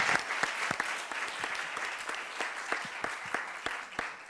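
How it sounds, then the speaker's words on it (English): Conference audience at a session on creativity in art, design and science applauds, a steady wash of many hands clapping at moderate distance, with a few sharper individual claps standing out and no speech over it. "please join me to give them a round of applause again"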